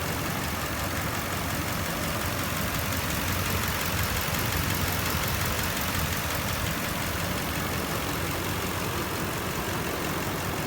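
A 2005 Nissan Armada with a 5.6 liter V8 engine idles steadily, a dense, continuous engine rumble heard close and loud throughout with no talk.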